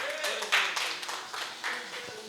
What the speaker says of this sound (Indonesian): kita kasih tepuk tangan untuk Bapak Ketua kita, Rizal Balevi